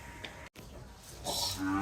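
A dairy cow moos in the latter part of the clip at a dairy farm, a low drawn-out call over a noisy outdoor background, after a brief gap of silence.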